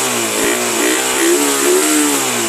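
A carbureted Raider 150 motorcycle engine revs hard to high RPM, holding a loud, steady, close-up whine with rising and falling pitch over a couple of seconds; no talking.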